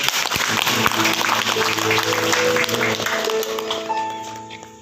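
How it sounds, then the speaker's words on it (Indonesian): Audience applause at a Christian college campus gathering in Nabire, a steady crowd clapping mixed with music tones, fading gradually toward the end. "Luar biasa, tepuk tangan lagi."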